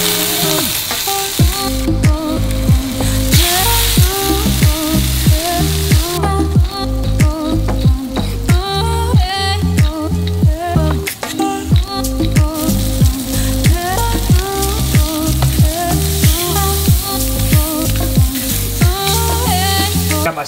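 A salt-and-pepper seasoned steak sizzles steadily in a hot pan, a loud, continuous crackling spatter with popping bursts, no voices present.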